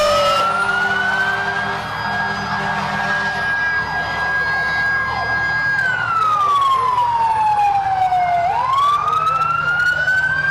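A Roane County Ambulance Service siren sounds during a Christmas parade in Harriman with a long sustained wail that slowly falls, then swoops back up, loud and near over a low hum of engines.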